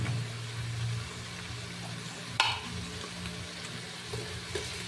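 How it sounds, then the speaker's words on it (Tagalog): Jolly mushrooms sautéing in a hot pan, a steady soft sizzle with a brief clatter of stirring partway through, fairly close and without voices. "Para magisa natin yung mushroom."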